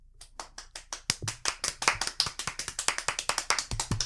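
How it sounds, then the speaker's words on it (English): A soft golf clap from a few hands, quiet and close. It starts as scattered claps, then settles into a brisk, even patter lasting about four seconds. "It's a good golf clap"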